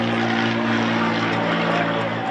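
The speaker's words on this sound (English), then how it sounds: "Second airplane in the last minute to go off." An airplane passes overhead during a baseball game, its steady, loud propeller-engine drone filling the whole stretch with a constant hum and no clear speech.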